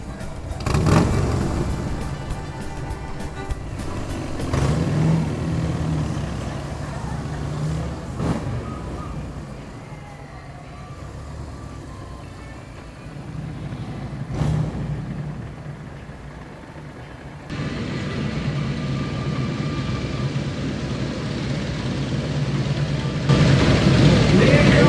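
Motorcycle engines idle and rev in an echoing parking garage, rising and falling in loudness, with people talking at times over the rumble.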